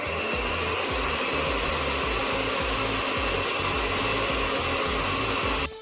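An electric hand mixer beating cupcake batter in a bowl, a loud, steady whirring drone with a rhythmic low churning that runs continuously and then cuts off at the end.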